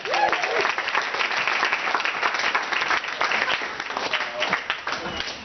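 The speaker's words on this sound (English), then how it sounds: "So, round of applause." Wedding guests applauding during a speech in honour of the bride, a dense, continuous burst of clapping from a roomful of people, loud and close, with a few voices faintly underneath.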